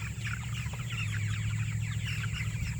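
Meat chickens in a farm pen cluck and chatter steadily over a continuous low mechanical hum, with no talking.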